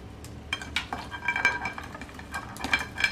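A spoon scrapes and clinks in a pot as Caribbean-style legume ingredients cooked in vegetable oil are mixed together, in soft irregular stirring strokes with light metallic taps.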